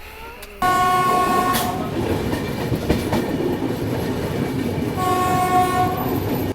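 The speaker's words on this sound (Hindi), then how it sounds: "अभी ट्रेन जो है वो पहुंच रही है अपनी नागपुर" The Hamsafar Express pulling into a Nagpur station sounds a long train horn, then rumbles and clatters steadily along the rails, with a second horn blast near the end, loud and close with no talk.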